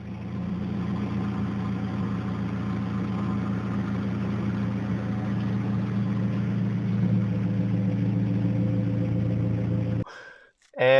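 A Mazda 3 with a Mazdaspeed cat-back exhaust idles with a steady, deep exhaust burble for about ten seconds, then cuts off abruptly before a brief noise at the end.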